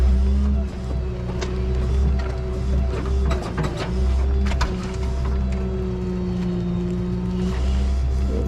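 A tow truck's wheel-lift arms lowering during a snowy winter recovery of a 2018 Honda: a steady hydraulic motor drone with mechanical clunks and rattles running throughout, close and fairly loud, with no talking.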